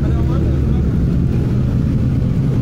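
Honda Civic race cars, an Estilo and a Type R, idle and roll toward the start line at a track, a loud, steady low engine rumble close by with a faint voice mixed in.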